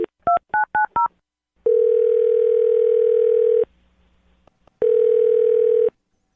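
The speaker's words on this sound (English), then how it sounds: "I'm going to dial her phone number right now." A quick run of telephone keypad tones is followed by two long, steady ringback tones separated by a short pause, clear and close.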